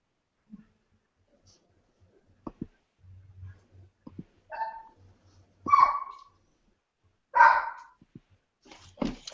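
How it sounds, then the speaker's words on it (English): A dog barks several times indoors, short sharp barks spaced irregularly with some quieter huffs and breathing between, fairly close and without speech. "my stupid dog"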